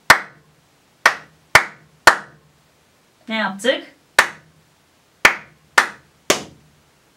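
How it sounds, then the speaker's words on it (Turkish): Sharp hand claps beat out a rhythm for a conservatory ear exam, nine crisp, close strikes in an uneven pattern, with a short spoken question breaking in midway. "Mesela alkışlayarak bir ritim tekrarı yapalım."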